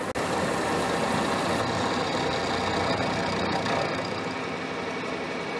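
A Myford ML7 metalworking lathe runs in back gear, taking a deep cut, with a dense continuous mechanical hum and grinding rattle close by, steady throughout and no talking.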